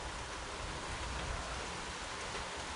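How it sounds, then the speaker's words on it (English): Steady, faint hiss of rainfall, a dense even patter with no pauses or voices. "The rain's picking up."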